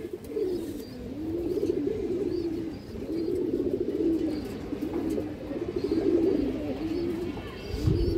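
A male pigeon coos close by, giving a continuous sequence of low, throaty, undulating calls over several seconds, with a brief thump near the end.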